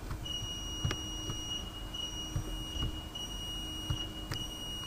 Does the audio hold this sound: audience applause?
no